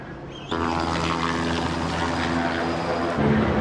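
A helicopter passes overhead, a loud, steady rotor and engine roar that starts abruptly and holds for a few seconds without talk.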